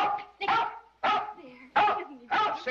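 A dog barks in five sharp, close bursts at a steady rhythm inside a 1948 film scene, with people speaking in between.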